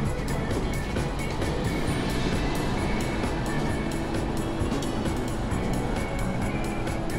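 Train in the JR East Train Simulator game rolling into a station approach under heavy braking, a steady loud broadband rumble and rail roar running unbroken throughout, with no voices.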